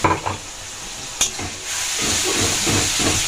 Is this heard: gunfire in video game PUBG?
no